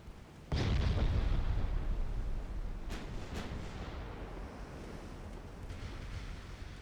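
In the naval video game Ultimate Admiral Dreadnoughts, torpedoes strike a battleship with a sudden deep, roaring impact that swells into a long rumbling wash like surf, with a couple of faint sharp cracks later on.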